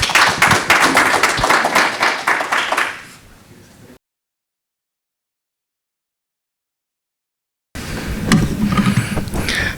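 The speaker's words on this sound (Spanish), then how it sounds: "recibamos con un aplauso al doctor Hans Eguía" An audience at a medical session on artificial intelligence applauds a speaker, a dense burst of clapping that fades out, followed by a silent gap before noisy room sound returns.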